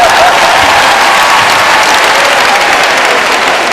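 A live crowd at a Zouglou music event in Abidjan applauds loudly and steadily, dense continuous clapping close and full with no pauses.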